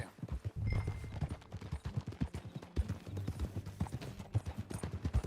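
Rapid hoofbeats of horses galloping in Red Dead Redemption 2, rhythmic and close, with a low rumble underneath.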